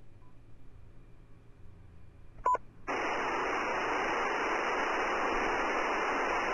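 A phone call in the horror video game Wronged breaks up into loud, steady hiss and static, preceded by a brief crackle of interference, filling the second half of the clip alone without speech.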